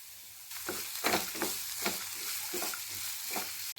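Finely chopped tomato with onion sizzles in a pan for poha, broken by several distinct scraping stirs at an irregular pace, close and moderately loud, with a brief clatter near the end.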